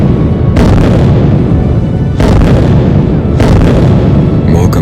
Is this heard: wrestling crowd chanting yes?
no